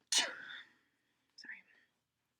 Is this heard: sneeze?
yes